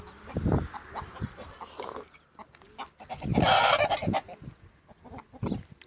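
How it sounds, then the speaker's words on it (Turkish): Rooster crowing and clucking outdoors at a farmyard, several loud bursts in an irregular rhythm with a long drawn-out crow in the middle, fairly close and with no talk. "burada dışarıda ya, horoz falan hep geliyorlar"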